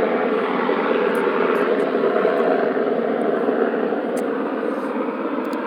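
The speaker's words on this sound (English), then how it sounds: "why is there a goddamn helicopter in the middle of the night?" A helicopter flies overhead in the middle of the night, a loud, steady broadband rotor roar that stays constant throughout, with no talking.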